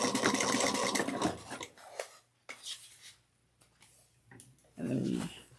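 A sewing machine stitches a bag seam forward and back in short whirring bursts, close and fairly quiet, with pauses and small handling clicks between runs.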